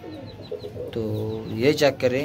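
Pigeons in a pigeon loft in Lahore, soft throaty cooing and fluttering calls close by, with someone talking over them partway through.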